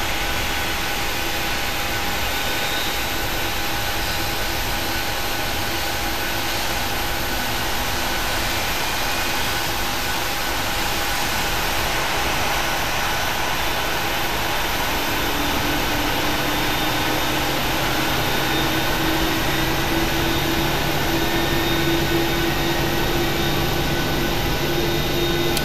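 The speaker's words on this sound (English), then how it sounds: "We should get a good engine start on 2 here." Boeing 737 engine 2 spooling up during start in the PMDG 737NGX flight simulator, a continuous whining roar with rising tones that climb in pitch over the latter half, steady and unbroken.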